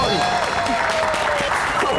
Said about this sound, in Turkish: Alkışlarınızla geliyor efendim.